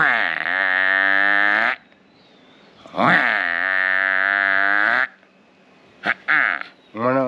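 A human voice imitates a water buffalo's call: long, deep, bellowing moos repeated several times with short pauses between.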